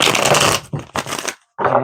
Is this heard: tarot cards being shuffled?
yes